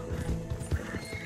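Horse hoofbeats at a gallop in the video game Red Dead Redemption 2, a quick run of dull thudding clops in uneven rhythm over steady background noise and music.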